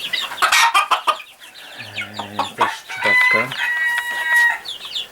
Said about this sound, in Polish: Tam jest kurka jeszcze.